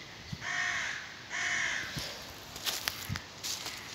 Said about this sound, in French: il y a plein de corbeaux qui crient